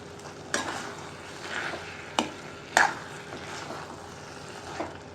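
A spoon stirs fried black carrot halwa in a pan, with a few distinct scraping knocks against the pan over a faint, steady sizzle, no talking.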